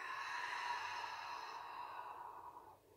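A long, soft exhale during a yoga session, a breathy sigh that fades out toward the end, close and quiet.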